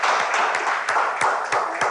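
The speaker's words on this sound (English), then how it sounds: "Keep clapping, keep clapping." An audience claps along on a teen talk show, producing a dense, close patter of hand claps with sharper, evenly spaced accents that keep a steady rhythm throughout.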